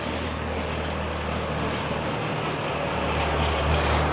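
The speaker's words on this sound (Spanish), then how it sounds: "este es el único ruido que te vas a encontrar en un lugar como este. El de los tractores, el de los coches de caballo." A tractor on a village street in Tapaste, Mayabeque, Cuba, gives a steady, fairly loud low engine rumble with a constant drone that holds without pause.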